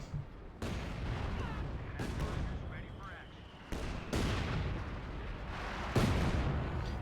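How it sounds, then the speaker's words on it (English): M8 Scott armored car firing in Company of Heroes 2 during a Wehrmacht versus US Forces match, heavy repeated artillery-like blasts over a constant battlefield rumble, with a caster talking throughout. "Scott firing away there."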